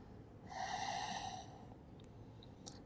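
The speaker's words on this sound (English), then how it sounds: "Let's stay and breathe." One slow, deep breath drawn during a yoga back stretch, soft and close over a steady low room hiss, with no talking.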